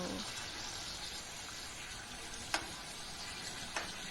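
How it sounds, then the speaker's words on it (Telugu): Amla (Indian gooseberries) frying in a pan for chutney, a quiet, steady sizzle with two sharp clicks of a utensil against the pan. "ఇంకొంచెం వేగితే బాగుంటుంది."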